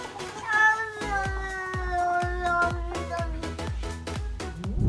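A cat meows in a repeated, drawn-out, tonal cry while another cat is kept away from fish in a bowl, with a steady run of sharp taps or thumps beating under it.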